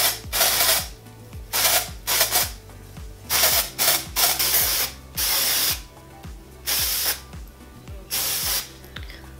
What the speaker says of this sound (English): I am gonna put a little bit of dry shampoo